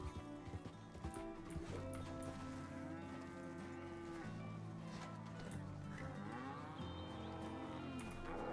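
Cattle in the video game Amaroq Springs moo repeatedly in long, drawn-out low calls that overlap one another, steady and fairly close throughout.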